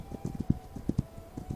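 A horse galloping in the video game This Land Is My Land: quick, close hoofbeats in a rolling, uneven rhythm, each clop sharp and distinct, with nothing else around them.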